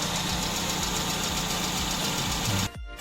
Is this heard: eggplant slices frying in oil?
no